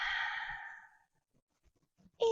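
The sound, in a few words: exhaling breath during a workout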